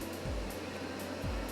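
Home fat freezing device running while strapped to an arm, giving a steady whirring hum like a small motor or fan, with two brief low thumps as it is moved into place.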